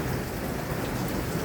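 Heavy rain pours steadily during a May thunderstorm with a tornado warning and frequent lightning, a dense, loud wash of noise with low thunder rumbling underneath throughout.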